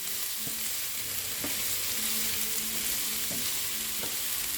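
Food frying in a pan at home, a steady hiss and sizzle with occasional spatters and pops while ingredients are stirred, close and fairly loud throughout.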